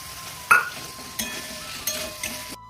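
Meat tipped into a pan of spice masala being fried down with ground spices, salt and sugar, a soft sizzle under a few sharp clinks and scrapes of a utensil against the pan.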